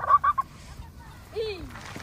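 Geese in a flock give a few short honks close by, followed by a longer sliding call, in an outdoor community setting.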